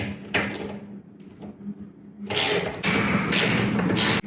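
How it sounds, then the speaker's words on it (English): A 1/2-inch wrench loosens the mounting bolts on a garage door opener motor, giving close metallic ratcheting and clanking. Brief clicks come first, then dense, loud bursts of mechanical rattling in the second half, with no voice. "they just use a 1/2-inch wrench to release these. So I'm gonna take these off."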